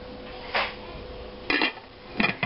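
A lid is set onto a crock pot used for dyeing wool yarn with Kool-Aid, giving a few close ceramic clinks and knocks in quick separate bursts over a quiet room hum.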